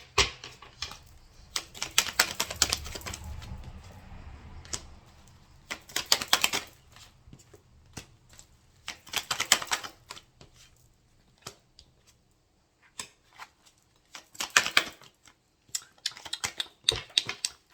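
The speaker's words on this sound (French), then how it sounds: "j'ai pas assez mélangé les cartes" Oracle cards from a deck being shuffled by hand in repeated crisp riffling bursts, close and fairly quiet, with short pauses between handfuls and no talking.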